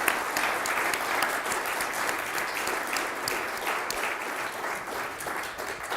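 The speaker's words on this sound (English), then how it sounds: "let's get a round of applause for our panelists" Dense, steady applause from a large conference audience at a Washington, DC tech summit, sustained clapping filling the room for several seconds without pause, loud and close.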